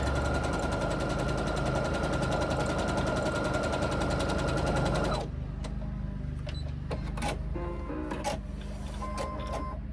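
Sewing machine doing free-motion quilting hums in a fast, even, close drone for about five seconds, then drops to a quieter, lighter running with scattered clicks and taps.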